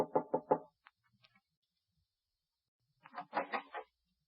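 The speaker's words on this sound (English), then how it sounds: "I went aboard one and knocked on the cabin door." Knocking on a ship's cabin door in a harbor: a quick series of four firm knocks, a pause, then another burst of several knocks, close and distinct with no talk.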